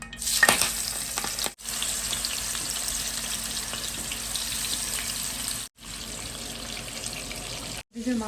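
Spiced fish fries in a pan with a steady, close sizzle and crackle that runs almost continuously, broken by a few short drops in sound.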